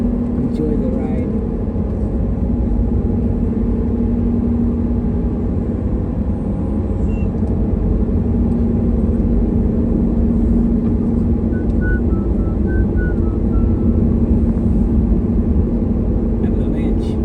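A car cruises along an Alaskan highway, its steady low road and engine rumble filling the cabin continuously, with people talking faintly inside over the drone.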